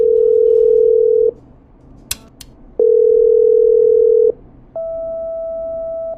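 Telephone dial tones from the video game Killer Frequency as a call is patched through: three steady tones, the first two lower and the last higher, separated by short gaps with clicks, loud and alone without speech.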